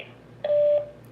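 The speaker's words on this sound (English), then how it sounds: "Please state your name after the tone" A single short electronic beep from a Google Voice call prompt, a clean steady tone lasting under half a second that sounds alone against quiet line hiss.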